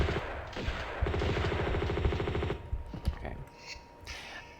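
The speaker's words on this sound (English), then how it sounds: "Okay, I want to get the M16 out." Rapid automatic bursts of M16 rifle fire in Tomb Raider 2, a dense stream of shots for about two and a half seconds, then a few scattered single shots as the firing fades.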